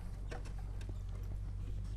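Hooves of a horse pulling a driving cart clip-clop in a steady, even rhythm, moderately distant, over a constant low rumble of wheels and outdoor background noise.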